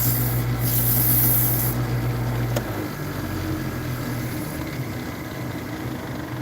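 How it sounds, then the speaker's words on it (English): Continuous rough rubbing and sanding hiss over a spinning lathe motor hum, wood sanded on a lathe fairly close, with the pitch of the whir dropping partway through. "I love sanding on a lathe, man."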